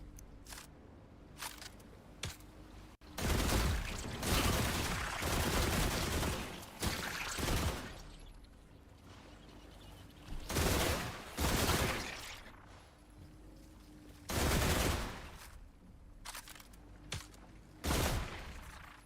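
A shotgun-like gun fitted with a breacher barrel fires in the video game Last Caretaker. Five or six loud, booming blasts arrive every few seconds, each followed by a ringing tail, with quiet gaps in between.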